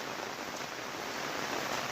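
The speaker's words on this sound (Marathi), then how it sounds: "भरपूर पाऊस आहे" Heavy rain falls outdoors in the Konkan countryside, a dense, even hiss of drops that stays constant and close without any voices.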